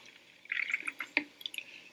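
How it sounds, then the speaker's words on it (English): Water pours into a glass bottle in short, irregular splashes and trickles, with a rising gurgle as the bottle fills, close and clear with no talking. "I'm going to fill it up with some water"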